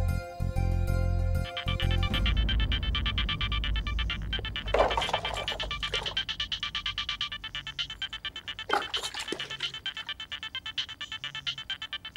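A phone ringtone plays at night, a loud melodic electronic tune repeating in steady cycles for several seconds, with brief chimes and jingly flourishes partway through and no talking over it.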